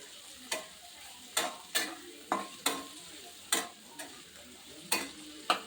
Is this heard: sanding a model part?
no